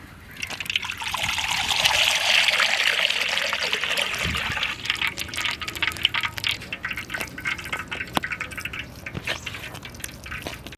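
Coconut oil poured for frying tuna fish, a steady close trickle that swells and then thins into scattered drips and small clinks.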